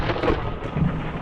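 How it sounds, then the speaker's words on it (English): A thunder clap for a lightning strike, a dense rumbling roar that stays loud and sustained throughout without pause. "But then the lightning struck."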